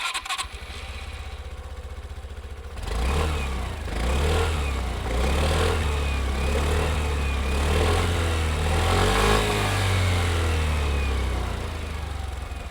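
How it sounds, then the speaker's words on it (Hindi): A 2026 Suzuki Burgman Street 125 scooter with its 125 cc engine starts up and settles into a steady, close exhaust drone, idling on with slight rises in pitch and no talking over it. "आपको इसका एग्जॉस्ट नोट सुनाता हूँ"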